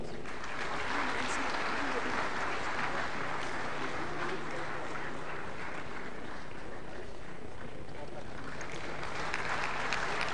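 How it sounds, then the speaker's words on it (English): Continuous crowd clapping at a national energy conservation awards event for student prize winners, a broad steady wash of applause that dips slightly midway and swells again toward the end. "Kindly keep the applause going."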